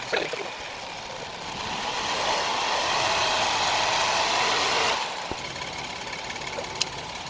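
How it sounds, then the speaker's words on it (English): The engine of a 2020 Hyundai Palisade, running while its thermostat is checked, rises to a louder steady rev for a few seconds, then drops back to a smooth idle, heard up close. "I'm gonna go give it a little bit more gas."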